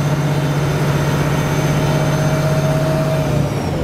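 A Duramax diesel pickup engine held at about 1500 to 2000 RPM during battery testing, a steady, loud, even drone with a constant low hum that holds unchanged throughout and no talking.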